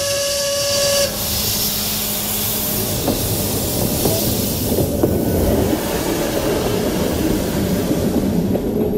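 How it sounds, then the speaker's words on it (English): Nilgiri mountain train on its way through the Western Ghats, a loud steam whistle at the start over a steady hissing, rumbling run, with faint rhythmic chugging and clanks carrying on throughout and no talk. "the train chugs along through narrow winding bridges, over 200 of them, and through 16 tunnels"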